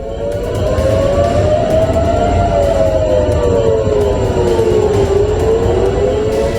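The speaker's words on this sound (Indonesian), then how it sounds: "Usai sirine peringatan dan serangan balik dari Iran" Loud air raid siren wailing continuously in Israel, its pitch slowly swelling and dipping, over a heavy background rumble.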